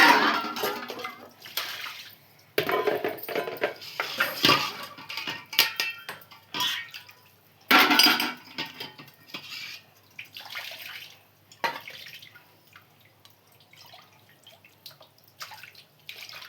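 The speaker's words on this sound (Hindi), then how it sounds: "बर्तन हम चलना है धुलने।" Dishes being washed under a running tap: bursts of water splashing and pouring alternate with clinking utensils and pots, then quieter gaps and drips near the end.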